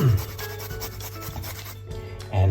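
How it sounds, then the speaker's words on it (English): Fresh ginger root rasped against a grater for a broth with umeboshi, a steady close scraping texture over a low background hum, with a heavier bump at the start and end. "And I'm actually going to grate the whole thing in."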